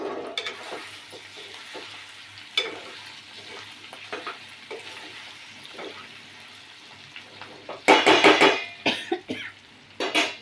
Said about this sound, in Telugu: ఇది నూనెలో ఒక 3 మినిట్స్ మగ్గాలి